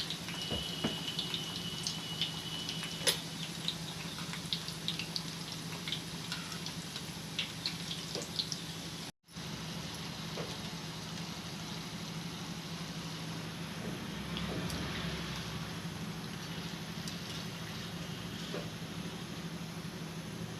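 Wheat flour janthikalu pressed into hot oil and frying, a steady fine crackle and hiss held at an even level throughout, with no one speaking.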